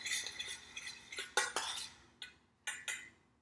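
A spoon scraping and clinking against a pot while marinara sauce is ladled out for chicken parmigiana, making a run of light metallic taps and scrapes, close and fairly quiet.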